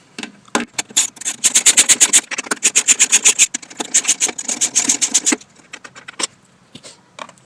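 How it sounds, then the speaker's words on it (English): A tool rattles out three 12mm bolts holding the pull start on a Victa push mower, a fast close ratcheting clatter in rapid bursts that stops and starts several times, then thins into a few scattered clicks. "we're going to take off these 3 12mm bolts"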